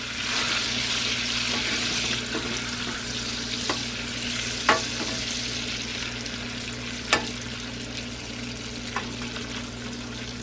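Brown sugar being stirred into melted butter in a pan for glazed carrots: a steady soft sizzle with a few sharp clicks and scrapes of a utensil against the pan, no talking.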